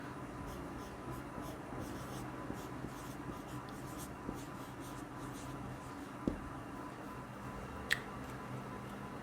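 A teacher writes a sentence on a board: faint, scratchy strokes run quietly throughout, with a couple of sharp taps standing out.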